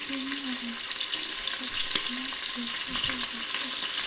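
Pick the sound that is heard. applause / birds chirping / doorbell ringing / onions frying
onions frying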